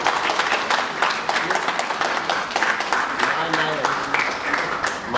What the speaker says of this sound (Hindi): एक बार जोरदार ताली भैया के लिए